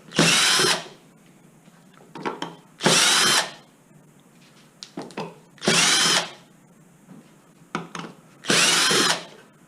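A power drill backs screws out of a Zip X5 scooter to reach the motor controller, running in four loud, close, roughly one-second whirring bursts with quiet handling clicks between them.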